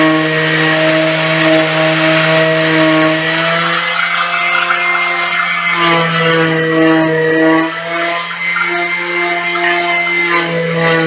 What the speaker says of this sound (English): Sandpaper is just about had it, but we can still use a fair bit of it.